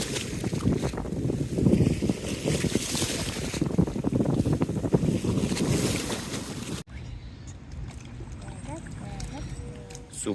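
A passing boat stirs waves on open water, with sloshing, rocking water noise and gusty wind buffeting the microphone. The rush drops away abruptly partway through, and someone talks over it.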